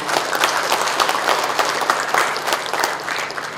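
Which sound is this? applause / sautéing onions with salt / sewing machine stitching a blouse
applause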